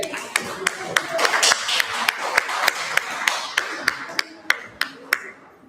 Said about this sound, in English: Again, give a round of applause.